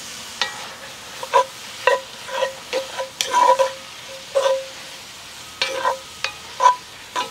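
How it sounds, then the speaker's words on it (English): Crawfish tails stirred into butter with sautéed onions and bell peppers in a pan for New Orleans crawfish bread, a steady soft sizzle broken by repeated clacking spoon strokes against the pan, close up and without talk. "We got our veggies sauteed down, going in with the crawfish."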